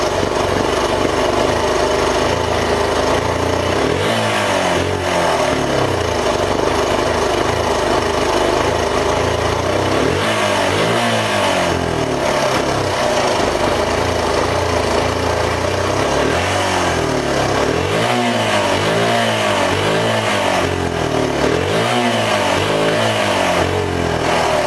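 A stationary Suzuki DR 125 motorcycle with a stalling fault and no choke runs loudly up close, its small engine revving in several rising and falling surges over a rough idle.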